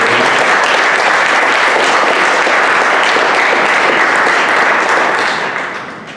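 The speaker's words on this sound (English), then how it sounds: "we should give a round of applause for" An audience at a business program launch event gives loud, dense applause that holds steady for about five seconds and then fades toward the end.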